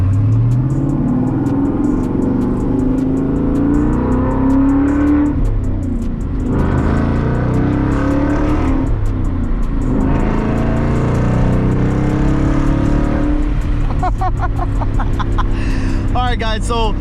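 A 2021 Ford Mustang GT 5.0 V8 with PP1 package and MBRP race exhaust idles and revs in loud, steady engine rumble, rising and falling in pitch, with someone briefly speaking near the end.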